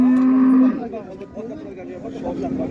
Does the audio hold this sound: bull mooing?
yes